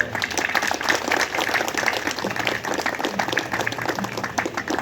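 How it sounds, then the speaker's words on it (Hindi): Sustained crowd applause fills a golden jubilee celebration at St Paul's church, dense and continuous with no pauses. "जोर से ताली"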